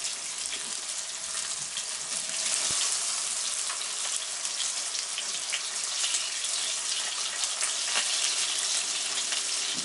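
Tofu and halloumi fry in a hot pan, giving a steady, dense sizzle with crackling pops that runs the whole time at an even, fairly loud level, with no talking.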